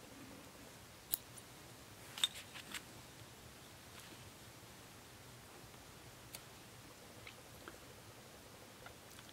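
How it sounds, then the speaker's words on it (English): A few sharp, quiet scissor snips cut yarn pieces free on a wooden peg loom, scattered clicks against near silence. "Then cut these pieces free."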